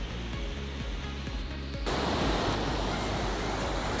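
Sea waves break steadily on the beach at Mandarmani, a continuous broad roar of surf that swells noticeably louder about halfway through, with no voices.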